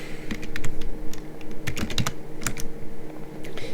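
Rapid keystrokes on a computer keyboard, clicking in an uneven stream of close, crisp taps with a few louder key hits, recorded up close with no voices.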